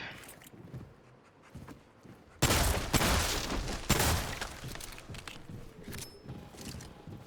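Gunfire in the video game Remnant 2 starts with a sudden loud burst of rapid shots, which continues as an uneven volley over several seconds after a quieter start.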